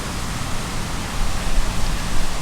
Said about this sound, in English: It's a bit noisy by the river